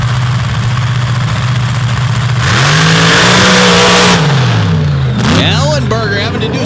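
A drag racing car, open class, launches and accelerates hard down the track at Paducah, its loud engine note climbing steadily as it pulls away, with an announcer talking over the roar.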